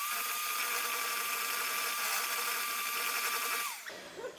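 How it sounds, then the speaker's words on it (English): An electric hand beater whirs steadily at high speed while mixing batter until smooth, a loud, close motor whine that runs continuously before cutting off near the end, with no talking. "So I'm going to mix together using my hand beater."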